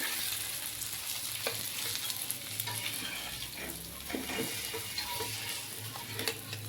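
Stuffed Bombay duck fillets fry in oil on a flat pan, giving a soft, steady sizzle with faint crackles and a few small clinks as they are handled, quiet and close with no talk.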